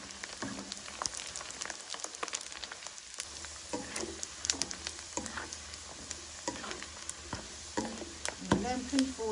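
Pork rind cracklings frying in hot fat in a pan while being stirred, a busy crackling sizzle with scattered scraping clicks of the utensil, moderately close and fairly quiet.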